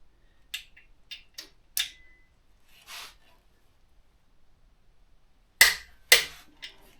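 Sharp, isolated clicks of a torque wrench tightening crankshaft bolts on a Perkins 4.108 diesel engine, a few faint then two louder snaps near the end, scattered irregularly with quiet gaps and no talking.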